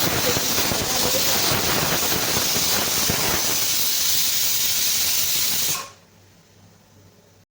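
An idli cooker vents a strong, steady hiss of steam that runs loud for several seconds and then cuts off abruptly, leaving only a faint low hum.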